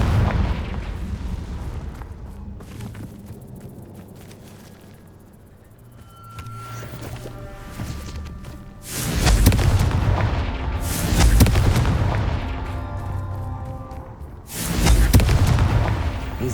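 Confringo fire spell explosions from the game Hogwarts Legacy burst in heavy booming blasts, a couple of loud hits after a quieter rumbling stretch, with no voices.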